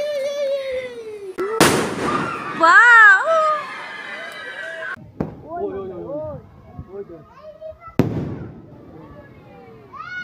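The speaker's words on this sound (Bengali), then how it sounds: "এই দেখো বাজি ফাটাই, আমরা বাজি ফাটাই" Firecrackers burst on Eid night in a few sharp, loud pops, alongside a child's high cries and people talking close by.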